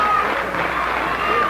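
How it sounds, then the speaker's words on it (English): Basketball fans in a high school gym applaud a Bearcats senior fouling out of his final regular-season home game on senior night, a steady wash of clapping and crowd noise throughout, fairly loud and continuous. "Bearcat fans give him a round of applause."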